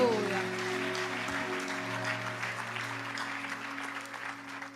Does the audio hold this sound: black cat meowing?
no